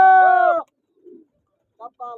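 Pigeons give a loud close coo, then after a near-silent pause a couple of shorter softer calls follow; no wingbeats stand out.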